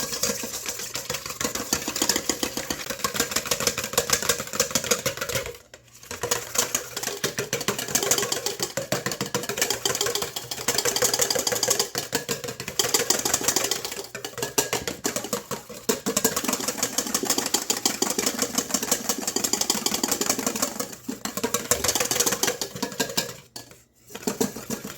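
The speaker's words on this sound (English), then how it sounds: "we're going to froth this. We're going to whisk this until it is frothy." A whisk beating a wet mixture for cinnamon sugar candied pecans until frothy, a steady close rapid clatter against the bowl that runs nearly nonstop, with brief pauses near the middle and end.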